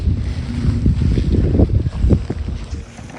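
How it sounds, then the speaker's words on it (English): Gusty wind buffets the microphone in low rumbling thumps, with a faint rushing hiss behind it. "Windy."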